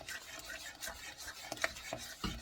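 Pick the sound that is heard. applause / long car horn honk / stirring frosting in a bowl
stirring frosting in a bowl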